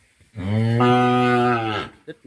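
A five-and-a-half-month-old cow lets out one long, loud, close moo that holds steady for over a second before fading, with a brief voice after it.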